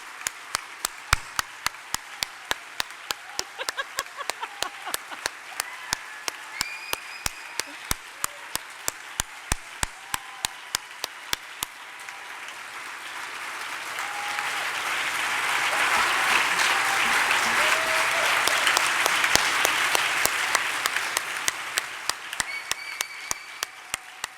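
An audience claps for a Hall of Fame inductee at a vegetarian festival event. The clapping starts as sparse rhythmic claps, then swells into fuller, louder applause before thinning back to scattered claps.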